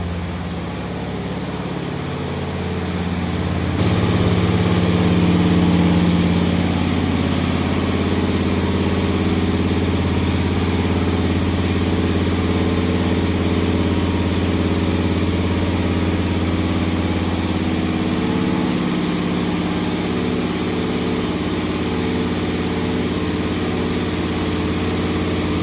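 Floor grinder working a terrazzo floor during restoration, a continuous droning motor hum that swells in the first few seconds and then holds steady and loud, close by with no talking.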